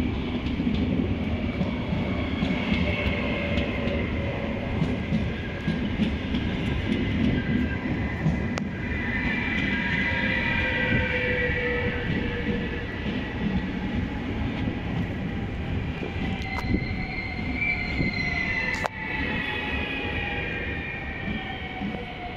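Dutch Intercity passenger train running along the rails in South Holland, heard from inside as a steady rumbling roar with rhythmic clatter and whining tones rising and falling over twenty seconds, loud and unbroken, no voices.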